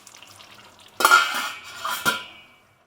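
Vegetable goulash with smoked paprika stirred in a pot: quiet at first, then a loud scraping clatter of a spoon against the pot, a second knock about a second later, and a fading stir.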